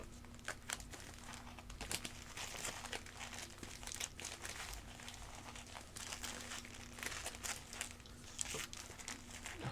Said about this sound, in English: Hard to shuffle whole entire packs of cards